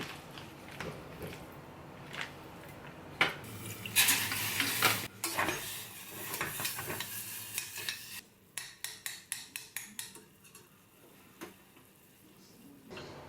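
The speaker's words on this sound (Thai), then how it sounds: "เราก็จะมาคั่วหมูกัน" Thawed pork being dry-fried in a pan, with a spatula scraping and clattering against the metal and a stretch of rapid rhythmic tapping, close and fairly quiet, with no talk over it.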